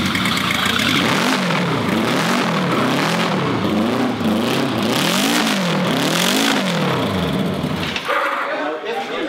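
A supercharged, methanol-fuelled Indian motorcycle engine with a Roots blower revs up and down repeatedly, rising and falling in pitch in several waves, loud and close, then drops off to a rough idle.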